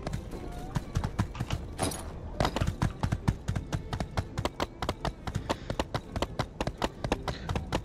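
Horse hooves clip-clop steadily and briskly while riding in My Time at Sandrock, a close, even trotting rhythm that continues throughout with light background game sound.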